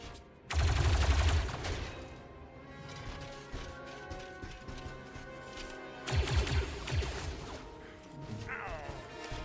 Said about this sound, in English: That's a lot of shooting.